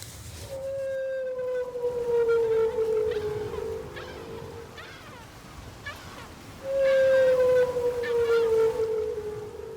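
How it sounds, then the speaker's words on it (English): Long, drawn-out underwater moans from a humpback whale, recorded by hydrophone, two sweeping wails several seconds apart against a hissing, crackling sea background. "hydrophone captures the whale's underwater sounds"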